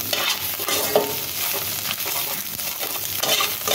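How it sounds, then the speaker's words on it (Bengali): Chopped onion sizzles steadily as it fries in a pan, with a spoon scraping and stirring through it in short, repeated strokes, close and alone without any talk. "এবার পেঁয়াজ কুচিটা দিয়ে নাড়াচাড়া করি।"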